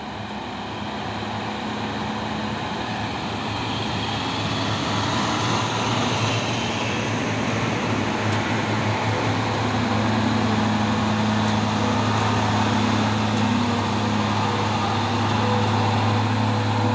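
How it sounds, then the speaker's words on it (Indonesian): A Fuso dump truck drives in, its diesel engine a steady low rumble that builds slightly and holds at a continuous, fairly loud level, with no talk over it. "Masuk dump truck Fuso."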